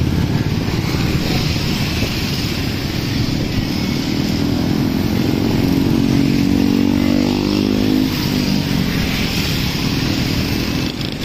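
A large group of motorcycles rides along a crowded road, a loud, continuous blended engine drone from many bikes passing close by, with no talk over it.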